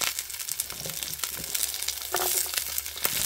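Onions and chopped vegetables fry in a hot pan as the start of a vegetable broth, giving a steady close sizzle with crackles and occasional stirring scrapes, and no talking.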